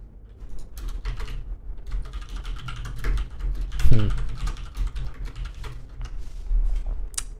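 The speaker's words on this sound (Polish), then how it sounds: "Ciekawe, czy tak słychać klawiaturę." Rapid clicking of a computer keyboard, irregular bursts of keystrokes close to the microphone with a louder clatter midway.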